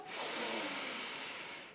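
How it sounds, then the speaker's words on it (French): A single deep inhalation taken during a guided relaxation exercise, a steady airy breath in lasting well over a second, close and alone with no talking. "Alors, on prend une grande respiration"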